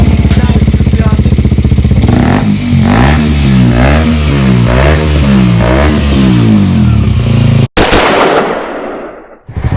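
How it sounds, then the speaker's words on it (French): A KTM Duke 125 motorcycle engine revs hard in repeated rising and falling bursts, loud and close, then cuts off sharply before a rough, fading mechanical rumble at the end. "KTM Duke 125 les gars."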